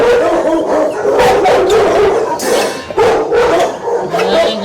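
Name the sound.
dog barking at animal shelter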